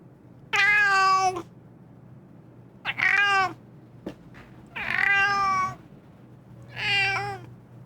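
A cat meows four separate times, each a drawn-out, clear call with gaps of quiet between them, close and fairly loud over a faint low hum.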